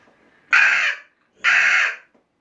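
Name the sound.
crow call lure imitating crow caws, two sharp calls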